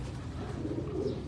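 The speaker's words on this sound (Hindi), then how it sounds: "बहुत अच्छे कबूतर।" Pigeons cooing on a Karachi rooftop, a steady low murmur of soft overlapping coos that stays close and moderately loud throughout, with no speech.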